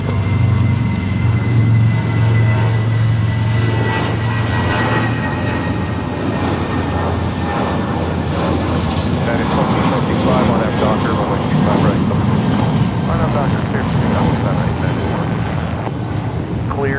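A Spirit airliner landing on runway 25 left at Los Angeles International Airport makes a steady, loud broadband jet roar, with air traffic control radio voices talking over it throughout.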